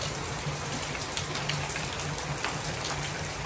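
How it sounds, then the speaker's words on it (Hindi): Heavy rain falls at night around midnight, a dense, steady hiss of drops pattering on surfaces, loud and continuous with no voices. "तकरीबन रात के 12 बज गए हैं और फुल मज़ेदार बारिश हो रही है।"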